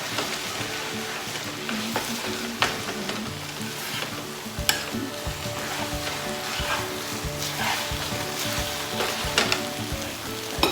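Lao-style kua mee noodles stir-fried with chopsticks in a hot pan, a steady close sizzle throughout with frequent scraping and clacking as the noodles are tossed and mixed, no voices.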